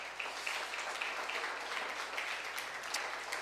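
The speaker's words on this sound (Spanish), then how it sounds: "le puedes dar un aplauso al Señor" A church congregation applauds, a steady wash of many hands clapping together at moderate distance, sustained without a break.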